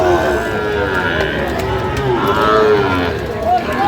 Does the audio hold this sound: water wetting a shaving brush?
no